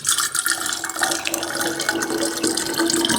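Liquid runs through a bottle funnel gadget into a container, a loud, close gurgling splash that keeps flowing for a few seconds without talk.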